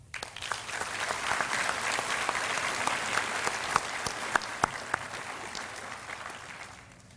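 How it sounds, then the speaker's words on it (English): A large audience at a high school graduation ceremony applauds in a sustained, even wash of clapping that swells, then tapers off in the final seconds. "We applaud you."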